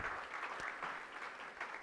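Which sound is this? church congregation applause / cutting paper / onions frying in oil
church congregation applause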